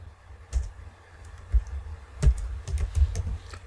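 Typing on a computer keyboard while filling in an XML document: irregular key clicks and a few heavier taps, close and fairly distinct, with no talking.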